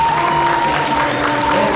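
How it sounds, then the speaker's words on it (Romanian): Brief, steady burst of audience clapping inside a municipal theatre during a stage show, a dense wash of hands with a faint tonal ring running beneath it. "Haideți un aplauze"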